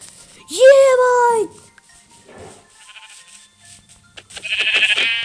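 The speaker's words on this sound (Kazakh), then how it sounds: "Қойлар толып жүр." A single loud, wavering sheep bleat rings out up close in Minecraft, followed by quieter game sound effects and a brief burst of speech.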